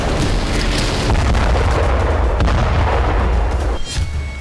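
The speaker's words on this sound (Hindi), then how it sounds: "और फिर फायरिंग शुरू हो गई।" Sustained gunfire and heavy booming blasts during an Israeli army night raid on a hospital campus, a continuous loud, dense roar of shots and explosions with a brief dip near the end.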